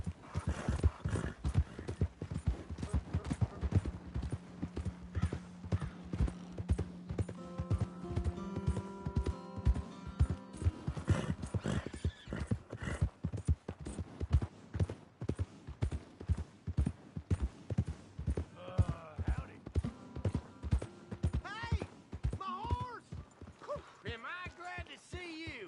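Horse hooves clip-clop steadily in the video game Red Dead Redemption 2, a brisk close rhythm carrying on throughout, with occasional whinnies and brief game sounds layered over the hoofbeats.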